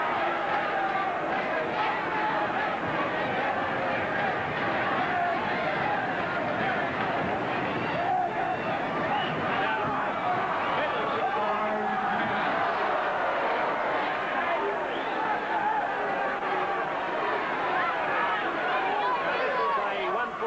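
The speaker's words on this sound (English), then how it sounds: "the crowd's right behind Kenny Dunlop" Crowd noise at a 1985 Australian professional wrestling TV taping, a continuous roar and chatter of spectators cheering through the match, with a commentator talking over it.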